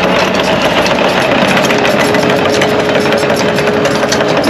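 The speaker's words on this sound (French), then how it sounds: "Regardez-moi ce qui arrive là. Une belle pelleteuse." A mini excavator engine idles loudly and steadily nearby, a constant mechanical rumble with a faint whine running through it.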